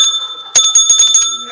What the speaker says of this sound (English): Oh, there's the bell.